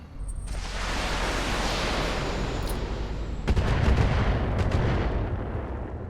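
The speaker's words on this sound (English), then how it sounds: "he's shooting at the building anyway" Mech weapons fire in a Battletech game set in 3062 with heavy atmosphere: a loud, sustained roar of gunfire and blasts, swelling into a heavier burst midway with sharp cracks, no voices.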